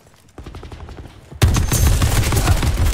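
A VKM 750 light machine gun in Black Ops 4 fires rapid automatic bursts, quieter shots at first, then a loud, close, sustained stream of gunfire.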